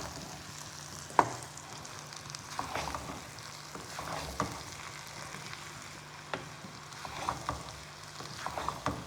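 A spoon stirs mash dal in a pan, giving soft, quiet scraping and occasional light clicks against the metal over a faint, low background hiss.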